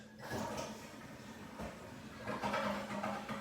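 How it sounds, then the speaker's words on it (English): Toilet flushing, a faint, gurgling rush of water that swells and surges over a few seconds, fairly quiet and distant with no talking. "That's me flushing all my haters down the toilet"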